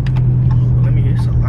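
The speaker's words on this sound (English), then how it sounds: "it's a lot of traffic outside" Street traffic outside a car in a driveway or open area, heard as a steady low engine rumble and hum throughout, with faint voice-like sounds mixed in.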